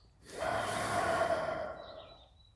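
A long, slow breath drawn in and released, loud and close, in a quiet room.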